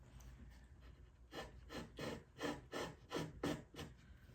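A chisel shaves excess wood from a guitar soundboard along the grain in about eight even, rasping strokes, each a short scrape at a steady rhythm, close and quiet after a near-silent start.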